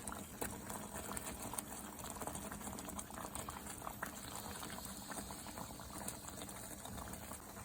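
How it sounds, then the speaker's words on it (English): Beef liver simmering in a pan of liquid on the stove, a steady, close bubbling and sizzling patter that holds at an even level throughout with no voices. "Now I'm gonna go ahead and add that liver."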